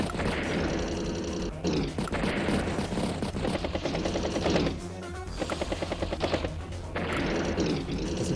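Battlecopter strikes in the Advance Wars by Web strategy game, heard as dense, busy bursts of crackling, gunfire-like impacts and rotor noise that repeat in several loud waves across the whole span.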